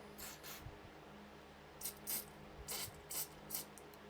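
Carburetor cleaner sprays in short bursts into the holes of a Parkside hedge trimmer's carburetor. Several brief, faint hissing spurts stand out against quiet background, some closely spaced near the end.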